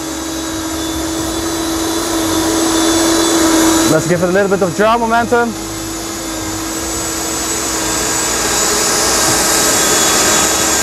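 Twin 130mm high-voltage Schubeler EDF fans on an F-35B model jet hover with a steady, loud whine throughout, with a voice speaking briefly over it in windy outdoor conditions.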